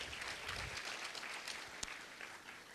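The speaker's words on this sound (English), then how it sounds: "let's give them a round of applause." Audience at a conference welcome session giving a round of applause, quiet and somewhat distant, a brief patter of claps with one sharper clap standing out near the end.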